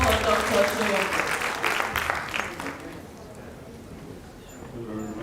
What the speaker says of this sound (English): Please let's welcome to the podium with a big round of applause, a very big round of applause for Dr. Soyombo.